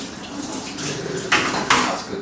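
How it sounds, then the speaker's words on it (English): A food processor bowl is rinsed under a running tap, a steady hiss of water with two brief louder splashes and knocks as the bowl is handled in a kitchen sink. "Give that a little rinse."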